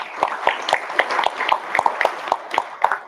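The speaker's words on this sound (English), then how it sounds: "I think a round of applause is deserved for the panel" A panel audience at a Middle East energy and marine finance networking event applauds with a short burst of distinct, fairly regular claps from a small group, nearby and moderately loud.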